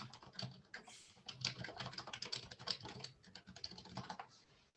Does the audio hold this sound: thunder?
no